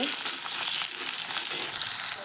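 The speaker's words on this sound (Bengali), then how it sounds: "দিয়ে আলুটা কিছুক্ষণ ভেজে নেব" Potatoes fry in a pan as part of a mixed vegetable dish, giving a steady, close, bright sizzle that holds nearly level throughout, with no talking.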